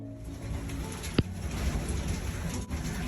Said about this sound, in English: I've been caught in this enormous storm, and it's still rocking.